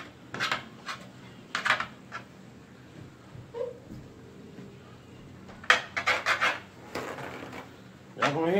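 A utensil scrapes rice stuck to a skillet during a Chinese-food mukbang, producing several close, rough rasping strokes in bursts separated by quieter pauses.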